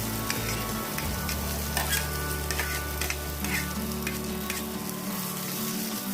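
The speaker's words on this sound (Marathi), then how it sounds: "आता हा कांदा तेलामध्ये परतून घ्यायचा" Chopped onion and green chillies sauté in oil for an okra (bhendi) dish cooked over a wood-fired clay stove, a loud, steady close sizzle with stirring scrapes throughout and no talking.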